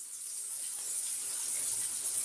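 Food sears with butter in a hot pan, giving a steady, close hiss that builds slightly and holds without a break.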